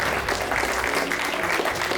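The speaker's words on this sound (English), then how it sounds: "Can we get a round of applause for everybody who worked on the film?" An audience applauds the film crew after a talkback screening, a dense, steady burst of clapping from a crowd that fills the whole moment at close range.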